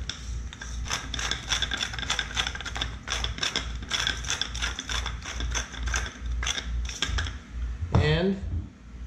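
A hand pepper grinder cracks freshly ground black pepper in a rapid series of dry ratcheting clicks, close and fairly loud, ending with a brief clatter as it is set down.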